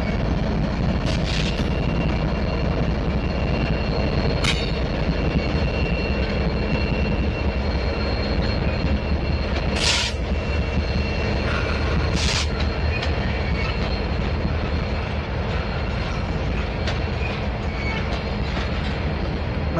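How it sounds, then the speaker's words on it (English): A freight train pulled by two locomotives rolls past in a loud, continuous rumble of wheels and cars, broken by a few short, sharp metallic squeals and bursts. No one speaks. "Must be not that big of a train with only two engines."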